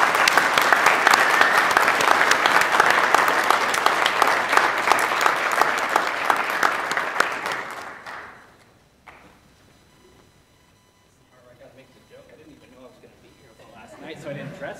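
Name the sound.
applause for Brian at graduation ceremony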